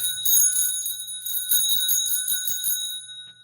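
A twist-style bicycle bell rings repeatedly with bright, metallic trills in quick bursts, close and clear, fading out near the end.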